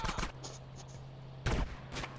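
Gunfire in the video game GTA San Andreas: two short, faint volleys about a second apart over a steady background tone.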